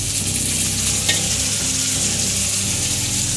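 Chopped tomato goes into ginger frying in a pan, setting off a loud, steady sizzle with stirring throughout and no voices.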